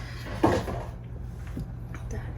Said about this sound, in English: That is the cat playing with an empty Kleenex box.